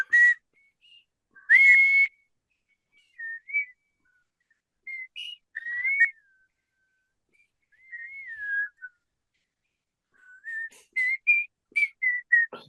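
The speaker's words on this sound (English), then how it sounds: "But I'm doing the tongue whistle." A person whistles a theme song with the tongue, producing a series of short melodic phrases separated by pauses, close and fairly clear with a few breathy bursts.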